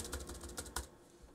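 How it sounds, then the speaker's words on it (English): Rapid, close keystrokes on a computer keyboard while editing a Caddy configuration file, an irregular run of clicks that thins out and stops near the end. "and start typing in what I need in here."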